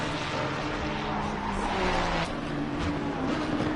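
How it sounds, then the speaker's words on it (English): GT3 race cars at Bathurst in a racing video game, engines droning with a loud tire screech rising and fading as a car slides through a bend, continuous and close, no talk. "I heard some tires screeching."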